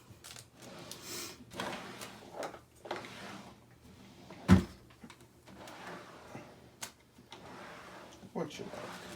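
A drawer of mixed media scrapbooking supplies rattles and slides open among other rummaging clatters and handling noises, with people talking throughout.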